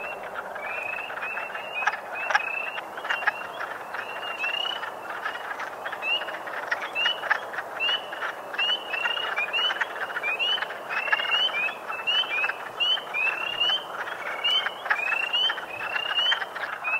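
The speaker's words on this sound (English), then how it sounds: "This is the frog, the wood frog, the hundreds of wood frogs in this" A dense chorus of hundreds of wood frogs calling from a spring pond in a nature park, with continuous overlapping clucking croaks and fainter ticking peepers mixed in, steady and loud throughout.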